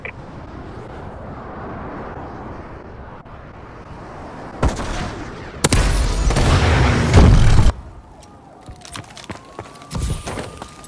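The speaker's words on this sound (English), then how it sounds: "Friendly missile strikes inbound." Missile strikes hit in Call of Duty: Advanced Warfare, with booming explosions rising around the middle and a loud, sustained blast, then scattered gunfire and a rising whine amid in-game ambience.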